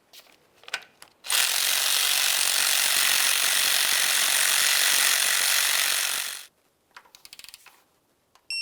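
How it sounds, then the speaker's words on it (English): Close, continuous rapid ratcheting runs for about five seconds as exhaust manifold bolts on a 2003-2011 Mercury Grand Marquis are tightened, framed by scattered metallic clicks and handling noises. "Once we get these snugged up, we'll torque each of them to 18 foot-pounds."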